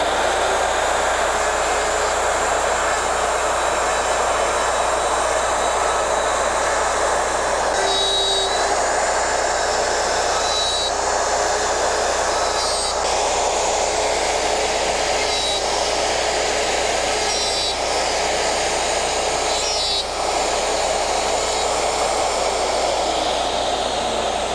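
Porter Cable router cutting a dovetail pin board across its face on an Omnijig dovetail jig, a loud steady high-pitched motor whine with brief tonal changes as the bit bites into the wood, running throughout.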